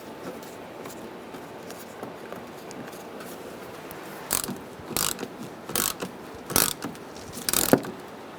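A ratchet wrench tightens bolts on a 2010-2013 Kia Soul headlight trim, with quiet faint fiddling at first, then several short bursts of clicking ratcheting spaced about a second apart, close by with no talk.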